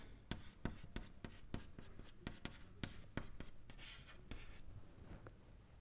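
Chalk or pen strikes and scratches as an equation is written during an electrokinetics lecture: a quick series of sharp taps and short strokes, close and fairly quiet, with no talking.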